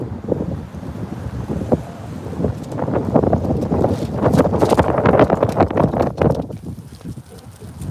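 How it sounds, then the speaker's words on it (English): Strong wind buffets an outdoor microphone at a camp, a loud continuous rumbling roar with gusting surges that swell toward the middle and ease near the end. "This wind is crazy."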